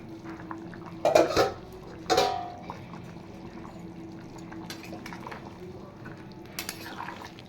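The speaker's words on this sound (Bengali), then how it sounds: "আর তার সাথে দিয়ে দেব আলু, ভেজে রাখা আলুগুলো দিয়ে দেব।" Fried potatoes tipped into a pot of mutton curry, two clattering bursts of metal against the pot close by, followed by quiet stirring and faint liquid sounds.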